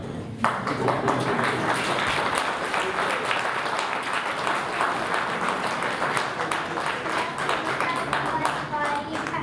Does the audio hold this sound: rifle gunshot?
no